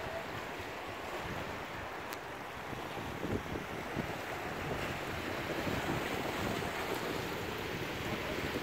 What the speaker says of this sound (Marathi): समुद्राचा छान आवाज येतोय